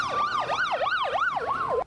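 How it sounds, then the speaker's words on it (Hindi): Ambulance siren wailing through the streets of Peshawar after a mosque attack, a loud close rising-and-falling wail cycling about every third of a second, heard alone. "पेशावर की सड़कों पर सायरन बजाती एम्बुलेंस दौड़ने लगी।"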